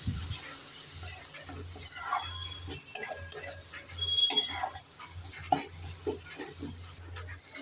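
Papaya kofta curry being stirred in a pan with turmeric, chilli powder and other spices, giving faint scraping and light utensil clinks in an irregular rhythm, close by and quiet, with no talking.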